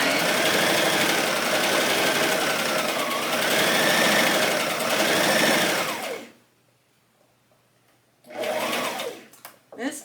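A sewing machine running a second seam line on fabric, loud and close with a steady whirring drone that speeds and slows, stops briefly, then restarts for a short burst before stopping again.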